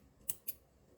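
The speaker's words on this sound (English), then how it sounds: "I just need to grab some scissors" Scissors snip through wool yarn while fastening off a crocheted star granny square, two crisp, faint close-up cuts in quick succession against a quiet background.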